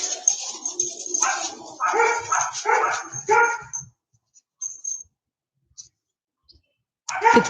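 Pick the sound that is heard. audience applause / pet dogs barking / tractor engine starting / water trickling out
pet dogs barking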